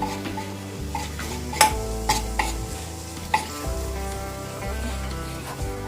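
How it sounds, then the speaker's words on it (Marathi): Spices (red chili powder, cumin-coriander powder, turmeric, garam masala and kasuri methi) frying in oil for veg cutlets, a soft steady sizzle broken by a few sharp clinks of a spoon stirring against the pan, with low humming underneath. "लाल तिखट जिरे धने पावडर आणि हळद हे सगळे मसाले मी आता टाकलेले आहेत ओके चांगले परतून घ्यायचे तेला"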